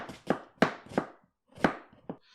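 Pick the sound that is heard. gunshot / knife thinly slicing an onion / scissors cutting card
knife thinly slicing an onion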